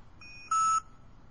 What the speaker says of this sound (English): If the bind is successful, you will get a single beep from the scanner.